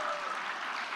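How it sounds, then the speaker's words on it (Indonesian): A brief burst of clapping comes from a group of women, a close, even patter of many hands that lasts only a moment. "tepuk tangan dong ibu-ibu"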